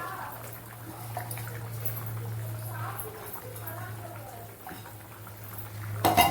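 Water bubbling at a rolling boil in a pot, a continuous churning simmer with a low steady hum underneath.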